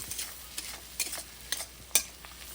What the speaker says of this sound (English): So we'll mix this around a little bit to get everything evenly coated